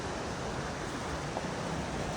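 Sea waves wash steadily along the seafront at Balchik, Bulgaria, a continuous broad rush with wind blowing across the microphone and no talk.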